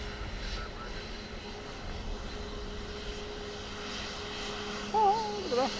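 Ryanair airliner on approach to Dublin Airport gives a distant, steady engine drone with a low hum beneath, fairly faint and continuous, with a brief electronic warble near the end.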